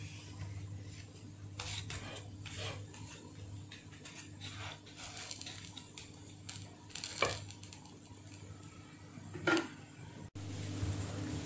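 Vegetable breakfast patties shallow fry in a pan over a medium flame, with a spatula scraping and clinking against the metal as they are flipped, over a steady low sizzle and hum, with no voices.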